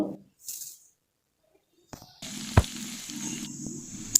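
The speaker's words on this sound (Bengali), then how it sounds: "এখন আলুটা দিয়ে দিলাম এখন আলুটা ভালোভাবে ভেজে নেব" Potatoes hit hot oil with whole spices in the pan, starting after a near-silent stretch with a sudden clatter and then a steady, moderately loud sizzle that continues to the end.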